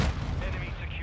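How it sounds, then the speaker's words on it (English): Constant game gunfire and explosions from a multiplayer shooter, dense and busy with low booms over rapid crackle, a steady loud wash with no gaps, under the overall mix. "It's just non-stop explosions."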